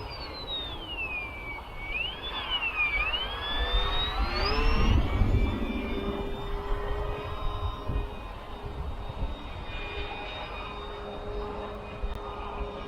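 XK A600 RC airplane in flight outdoors, its electric motor a thin whine that rises and falls in pitch through fast passes and tight turns, moderately loud over steady wind noise.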